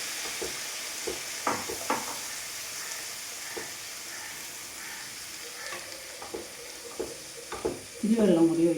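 Tamarind water is poured into a curry in a hot pan, where a steady hiss and sizzle runs throughout, broken by scattered stirring scrapes and ending in a louder bubbling surge.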